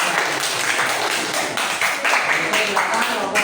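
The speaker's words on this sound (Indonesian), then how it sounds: "beri tepuk tangan untuk" Primary school pupils clap together in a classroom after a group presentation, a continuous patter of small hands that rises and falls over about three seconds, with voices mixed in.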